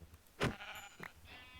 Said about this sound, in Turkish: Aa koyun buldum bir tane daha.